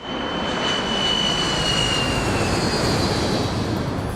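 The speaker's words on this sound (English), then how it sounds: "40 seconds into the dive, the plane descends below cloud cover." Airplane in a steep dive, heard from inside the cabin: a loud, steady roar of engine and rushing air with a thin high whine running through it, continuous and unbroken throughout.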